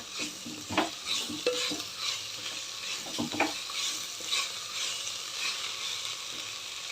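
Drumstick leaves (moringa) stir-fried in a pan, with a steady soft sizzle and scattered scraping stir strokes and light clinks, close and moderately quiet throughout.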